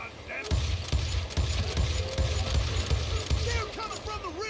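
Rapid gunfire in the Western video game Call of Juarez Gunslinger, a dense run of repeated shots at a steady rhythm while someone narrates over the action.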